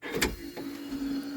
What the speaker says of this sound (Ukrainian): Ви тільки що чули характерний звук це звук наповнення подушки.